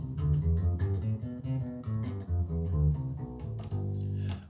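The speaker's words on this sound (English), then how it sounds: "we're going to start off learning the Mixolydian scale, which is going to sound like this." An electric bass guitar runs through a Mixolydian scale in a quick series of plucked low notes with a steady stepping rhythm, close and moderately quiet, with no talking.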